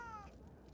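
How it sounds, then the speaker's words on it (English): A short, faint cat meow with a falling pitch, quickly fading into low background noise. "Stupid cat."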